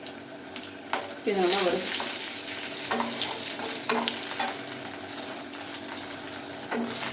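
Urad dal, chana dal and torn dried red chillies fry in a pan with a steady sizzle, punctuated by a few sharp stirring scrapes; a voice speaks briefly over the frying.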